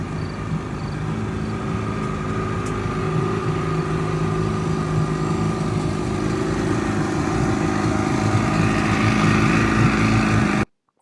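The engine of a 1969 Sidewinder boat runs on its first sea trial, a steady close-up motor drone at constant pitch for about ten seconds before cutting off abruptly near the end.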